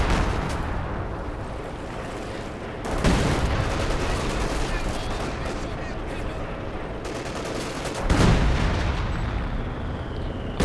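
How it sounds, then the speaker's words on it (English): Dense, loud battle din from the Company of Heroes 2 strategy game, with field gun artillery fire in a 2v2 match, and two heavy booming blasts standing out several seconds apart over a continuous rumble of gunfire. "Field gun at the front line"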